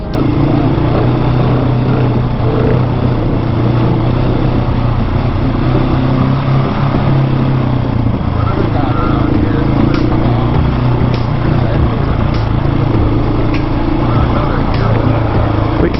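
A KTM 701 dirt bike engine drones steadily and loudly throughout a ride, with wind and road rumble mixed in and some faint talk over it.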